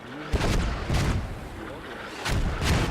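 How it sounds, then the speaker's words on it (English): Mortar shells bursting on a forward operating base in a war video game, two heavy booming impacts with rumbling tails and a muffled third blast between them, loud and close. "Mortars coming down on this FOB."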